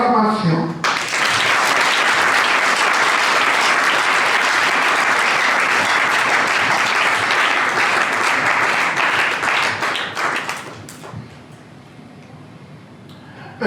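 Wedding guests at a civil marriage ceremony break into loud, sustained applause that fills the room for about ten seconds, then thins out and fades to a quieter murmur.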